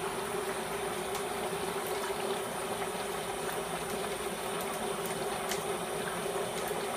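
Seven pounds of dry ice sublimate in five quarts of boiling water, making a continuous, even roiling bubble and hiss that holds steady throughout without any voices.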